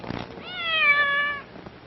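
A single drawn-out cat meow, clear and fairly close, rising then falling over about a second, with faint background noise around it.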